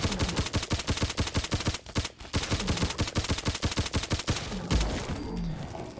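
A PPS-43 submachine gun from a Fallout 4 mod, firing semi-automatic in a video game, cracks out in a fast, even stream of sharp shots, with two brief gaps before the firing resumes and trails off.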